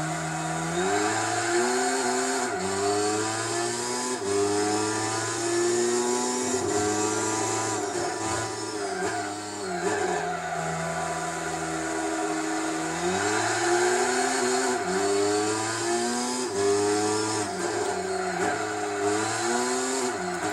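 Race car engine in Gran Turismo 4 driving the Tsukuba circuit, droning steadily at high revs with repeated rising and falling pitch as gears shift, loud and continuous throughout.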